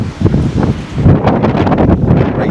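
Strong wind at an RV campsite roars and buffets against the microphone, a loud continuous rushing with gusty swells and rustling, close and without talk.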